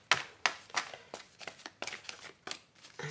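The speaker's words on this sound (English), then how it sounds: "I'm just gonna give it an extra shuffle" A tarot deck is shuffled by hand close up, a series of sharp papery riffles and flicks in an uneven rhythm, about ten quick bursts, with no voices.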